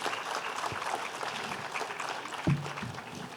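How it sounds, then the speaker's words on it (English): Steady applause from a full-house audience at a talk on democracy, elections and citizenship, sustained evenly throughout at a moderate distance. "let's have a big round of applause for her."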